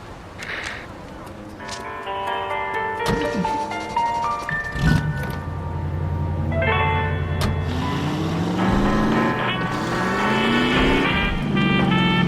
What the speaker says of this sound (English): That's my car there. I'll drive.